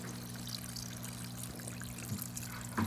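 Water pours and trickles into a hydroponics grow bed filled with clay pellets, a steady quiet flow over a low pump-like hum with a few small splashes near the end.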